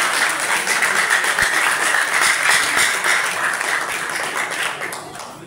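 An audience applauds at a gathering, a dense burst of clapping that stays loud and steady, then fades toward the end.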